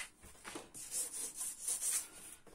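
A hand file rubs paper fibres off a card edge in quick, close, soft rasping strokes, several in a row with a scratchy texture and no talking.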